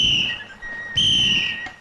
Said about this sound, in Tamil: கையில இருக்கிற விசில வாயில வச்சு அடிச்சு இறங்கி இருக்க மாட்டான்?